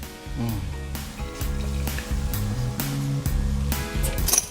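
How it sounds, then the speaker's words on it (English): Steady sizzling of butter in a hot pan, continuous and close, running beneath tuneful background music. "Just let that butter sizzle down."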